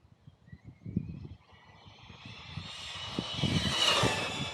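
A Traxxas Mini XRT RC truck races by with its electric motor whining at high pitch, rising and growing louder over rough crunching tire noise as it speeds closer.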